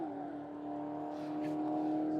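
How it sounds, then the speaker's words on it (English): A car engine drones at high revs with a steady harmonic tone that climbs slightly, loud and continuous with no voices. "Man, that thing is loud for a street car."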